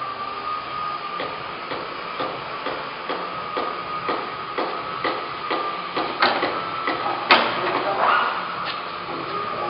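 Timesaver 18-inch wide belt grinder sander, model 50-19M, feeding a workpiece through on its conveyor, giving a steady mechanical hum with a string of regular soft knocks and rattles that build louder toward the end, no talk.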